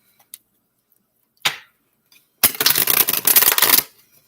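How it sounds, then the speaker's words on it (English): Tarot cards being shuffled before a reading, a few soft isolated flicks followed by one dense burst of rapid riffling slaps lasting over a second, close and clear with no talk. "I will shuffle and I will deal down"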